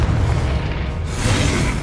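A Confringo spell explosion in the video game Hogwarts Legacy, a loud booming blast with a broad rumbling roar that swells, dips briefly and surges again, with no talk.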